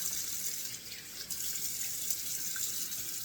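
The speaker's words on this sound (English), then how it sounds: "now turn the cold water on the sink. A couple of splashes of cold water" Cold water runs from a sink tap in a steady, soft hiss, with small splashing shifts as water is scooped and splashed onto a face; quiet and close, with no talking.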